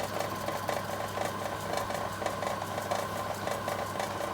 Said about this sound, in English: starting off with machining these knobs, first thing to do is to face off